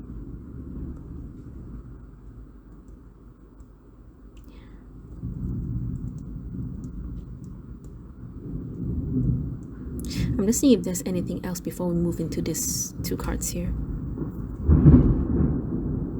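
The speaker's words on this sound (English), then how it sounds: "I'm so sorry about the thunder." Low thunder rumbles outside beneath a person speaking close by, swelling louder toward the end.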